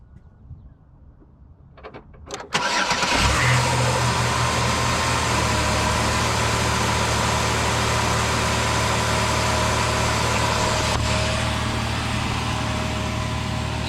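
A car engine with 160,000 miles, just repaired, cranks briefly, catches and settles into a steady, even idle that hums on unchanged, close and moderately loud.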